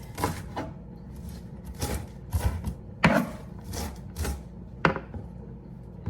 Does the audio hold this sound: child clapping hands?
no